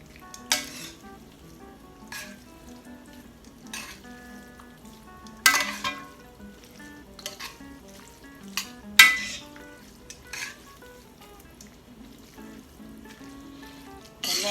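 Garlicky spaghetti with Parmesan is tossed in a hot pan, giving a steady sizzle with a few sharp clanks and scrapes of pan and utensil, close and moderately loud.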